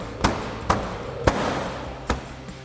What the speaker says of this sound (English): So just line that up. Give it a good tap to get in place.